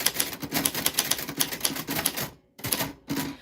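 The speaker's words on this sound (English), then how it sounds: "stop typing so fast." Fast typing on a keyboard, rapid dense clatter of keystrokes in quick bursts with a couple of short pauses near the end, close and clear with no voices.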